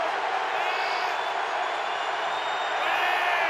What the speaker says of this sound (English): A raucous crowd at Heinz Field tonight